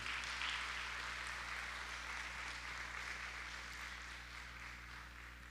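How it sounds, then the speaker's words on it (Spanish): A church congregation applauds during a service, a faint, hissy wash of clapping under a low electrical hum that slowly fades. "Démosle un aplauso"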